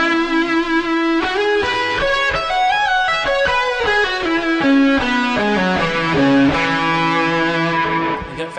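An electric guitar plays a major pentatonic lick full of sliding notes, with a distorted tone, running continuously for several seconds as bends and glides move up and down before settling lower, with no talking.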